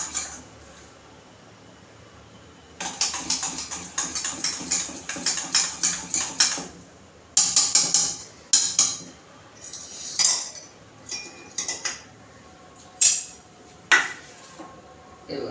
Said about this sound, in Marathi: ती चांगलं फेटून घ्यायचं आहे